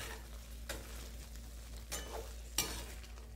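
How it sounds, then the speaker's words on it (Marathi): Egg gravy is stirred and mixed in a pan over a low steady sizzle, with a few soft scrapes and clinks of the spoon against the pan, no voices. "यामध्ये टाकून घ्यायचे, व्यवस्थित असं मिक्स करून घ्यायचं।"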